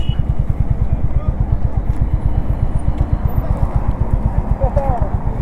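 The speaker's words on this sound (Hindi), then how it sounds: "ऋषिकेश और विनीत सिंह पहुँच गए हैं अपने अपने बाइक्स पे" Several motorcycles idle at a riders' meetup before a ride along the Mumbai–Pune highway, making a loud, steady, rapid low thumping throughout. Faint voices mix in.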